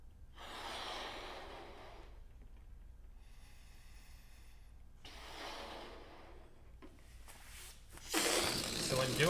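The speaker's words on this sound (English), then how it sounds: "you want to fully exhale all that air out you have into the balloon" Breath is blown out into a balloon in slow, airy exhalations, two longer rushes with a pause between, ending in a louder noisy burst, all fairly faint and close.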